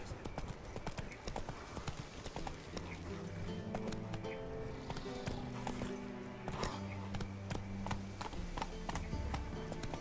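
Roach the horse trotting in The Witcher 3: Wild Hunt, with a brisk, continuous clip-clop of hooves close by under the game's music, plus a faint snort or whinny.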